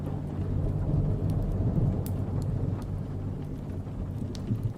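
Steady rain falls with low rumbling thunder throughout, a dense, continuous wash of rainfall over deep distant rolls, no voices present.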